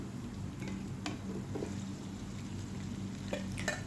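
Garlic and ginger frying in a pan toward golden brown, a steady soft sizzle with occasional stirring scrapes and clinks, close and moderately quiet.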